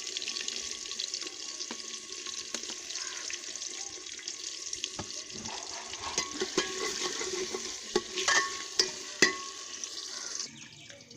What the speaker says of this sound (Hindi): घी जो है वो गर्म हो चुका है। मैं इसमें ऐड करूँगी प्याज, सूखी धनिया और प्याज